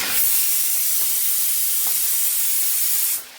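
A pressure cooker boiling potatoes with salt and turmeric lets off a loud, sustained steam hiss that runs close and steady for about three seconds and then cuts off abruptly.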